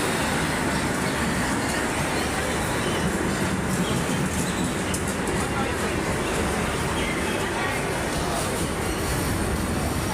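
Modhumati Express intercity train running on rails between Ishwardi and Poradah junction in Bangladesh, a loud steady roar of wheels and carriage rumble with rhythmic clatter throughout.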